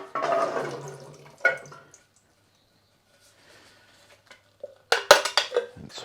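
An opened tin can is tipped and drained through a strainer, giving a clattering metallic burst with splashing liquid at the start, a short clink, then near-silence before a second run of sharp clanks and rattles close by.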